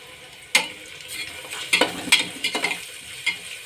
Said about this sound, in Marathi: कांदा टाकून द्यायचा आहे कांदा छान परतू द्यायचा आहे